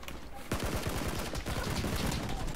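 Rapid bursts of automatic gunfire from a team shooter match, a dense stream of sharp shots starting abruptly and continuing steadily at close range.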